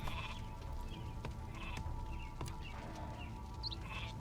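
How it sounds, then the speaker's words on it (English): Sheep in the Viking strategy game Northgard bleat in short scattered calls over a steady low ambient game hum, with faint bird-like chirps mixed in. "This place is full of sheep."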